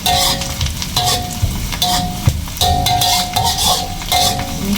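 Shallots and garlic sauté in hot oil in a pan for nasi goreng, a continuous close sizzle broken by the scrape and clink of a stirring utensil against the pan.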